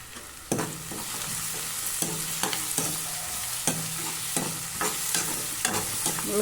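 Radish stir-fried in oil in a pan after tomatoes have softened, a continuous close sizzle with regular spatula scrapes and knocks roughly every half second; no talking.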